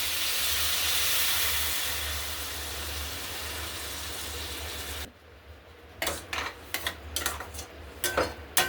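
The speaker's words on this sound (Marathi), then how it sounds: "आता याच्यामध्ये जे आपण हे पत्तीचं पाणी उकळून ठेवलेलं आहे ते घालायचं।" Boiled tea water poured into a pot of simmering chole in a home kitchen: a loud steady hiss and gush for about five seconds, then a pause and a series of sharp metallic clinks of a spoon against the pot.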